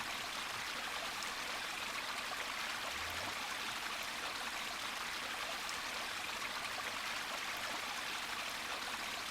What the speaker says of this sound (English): I hear the sound of water running from somewhere.